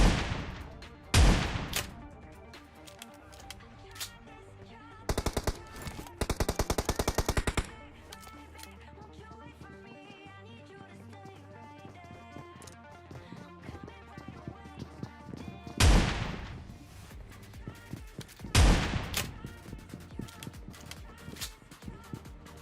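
Shotgun blasts from an S686 in PUBG Mobile ring out as a few loud, sharp shots, including a rapid burst around the middle, over continuous in-game background sound.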